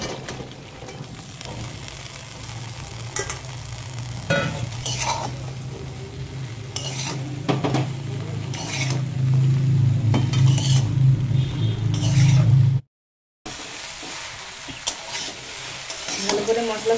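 Okra being stir-fried with spices in a pan for an okra-and-prawn curry, with a steady close sizzle, scraping stirs and pot clatter for about thirteen seconds, then a brief gap and quieter cooking noise.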